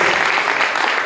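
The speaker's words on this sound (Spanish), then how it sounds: "También un aplauso a los zafiros que están aquí entre nosotros." Clapping from a church congregation, loud and close, filling the whole short moment as one continuous burst.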